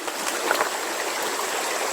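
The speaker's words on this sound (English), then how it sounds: "that's a decent sized creek that's running pretty good" A decent-sized creek running strongly through a cutover hunting property, a steady close rushing and trickling of water with no voices.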